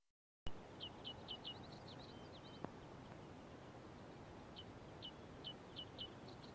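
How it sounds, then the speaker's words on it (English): Open cornfield in Iowa in August, with a steady soft wash of wind and rustling and faint, distant birds chirping in short repeated bursts throughout, no voices. "recorded what it sounds like when you stand in the middle of a cornfield"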